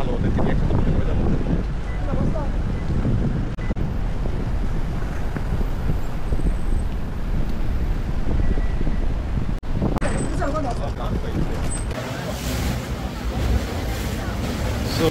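Steady wind buffets the microphone throughout a boat ride across open sea from the airport in the Maldives, with engine rumble and water rushing beneath, and a voice speaks briefly early on.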